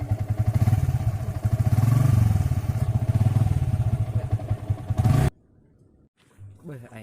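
A 1000cc motorcycle engine idles and revs steadily up close, a loud, throbbing rumble that runs for about five seconds before cutting off abruptly, leaving quiet background and faint voices.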